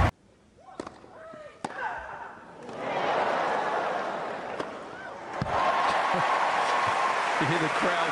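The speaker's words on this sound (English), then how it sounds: "You hear the crowd there after Serena's hit." A tennis crowd reacts after a hard Serena Williams shot, with sharp ball strikes followed by a swelling, sustained roar of cheering and applause that rises again near the end, and a voice speaking over the noise.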